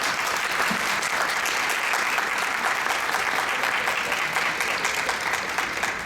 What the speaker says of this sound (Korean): 삼성전자 영상 디스플레이 사업부 개발팀장이신 김현석 전무님을 큰 박수로 모시겠습니다